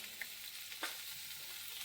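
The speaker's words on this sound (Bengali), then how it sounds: "এদিকে পেঁয়াজ কড়িটা ভাজা হচ্ছে" Onion frying in a pan on a gas stove gives a faint, steady sizzling hiss, with a couple of small crackles and a brief scrape partway through.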